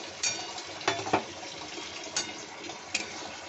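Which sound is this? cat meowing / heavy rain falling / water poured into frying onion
water poured into frying onion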